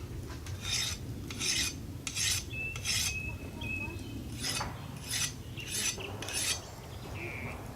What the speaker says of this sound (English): if you file a piece of annealed steel, it'll file like anything else that you do